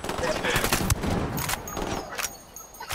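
Gunfire in the Ghost Recon Wildlands video game at night, a dense burst of loud shots running together, with someone speaking over it.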